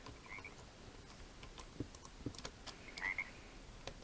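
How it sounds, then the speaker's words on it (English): A frog croaks in the video game Minecraft, a few short faint croaks scattered over quiet ambient background with light clicking, no voices. "Okay, I heard another frog over here."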